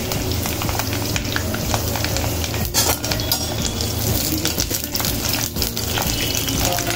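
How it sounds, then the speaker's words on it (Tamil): Curry leaves splutter in hot oil for a South Indian cabbage poriyal, a dense close crackling sizzle with occasional clinks of a utensil against the pan. "கருவேப்பிலை பொரிஞ்சிட்டு வருது"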